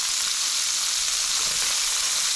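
Venison searing in hot oil in a pan, a dense, even, close sizzle that holds steady without a break and has no talking over it.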